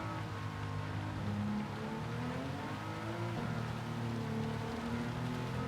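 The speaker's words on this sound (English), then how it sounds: "It's raining a bit more that we don't want, isn't it?" Steady rain hisses over a racing car's engine drone in Gran Turismo 7 during a Le Mans race in a 1961 Jaguar E-Type Coupe, a continuous wash with no talking.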